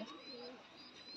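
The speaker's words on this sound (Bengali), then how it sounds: "এই যে কবুতর, এইটাই হচ্ছে ডাওয়ালে কবুতর" A Dabwale pigeon coos softly up close, a short low murmuring call running through about a second, faint and alone without talk.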